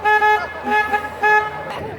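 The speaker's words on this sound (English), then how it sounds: "so I'm gonna honk my horn a little more right now" A river cruise boat's horn on the San Antonio River Walk at night honks in three short tooting bursts with brief gaps, loud and close, over faint background murmur.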